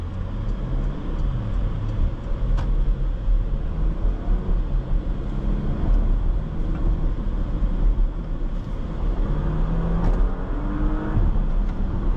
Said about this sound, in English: you put your foot down, that PDK will respond quickly and give you enough power and response to overtake in traffic